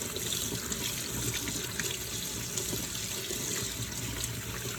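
Tap water runs steadily into a sink while raw chicken is rinsed, a continuous close, full-bodied splashing rush with no break and no voices.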